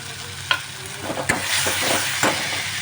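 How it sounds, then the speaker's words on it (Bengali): Chili powder and tomato paste fry in oil for a potol prawn curry, giving a loud, continuous sizzle broken by a few sharp scrapes and knocks of a spatula stirring in the pan; no talking. "এবার এটা ভালো করে কষাতে হবে"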